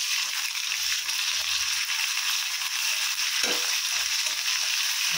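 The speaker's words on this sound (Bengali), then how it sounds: "এবার আমি আদা রসুন পেস্ট দিয়ে দিলাম" Onion with ginger garlic paste sizzles steadily in hot oil while being stirred, continuous frying hiss with occasional scraping and rattling of the spoon in the pan, close and fairly loud.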